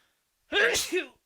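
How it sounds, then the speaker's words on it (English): A single sharp sneeze bursts out after a brief silence, close and loud, trailing off with a short breathy tail. "I'm going to sneeze"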